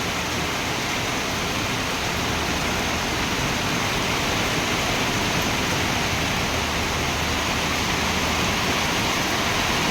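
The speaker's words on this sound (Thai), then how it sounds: "ไม่เคยเจอลูกเห็บนะคะ" Steady, dense rain pours down in a constant wash of noise, with hail and heavy drops drumming throughout in strong wind, and no voices.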